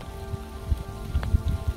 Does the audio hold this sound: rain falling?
yes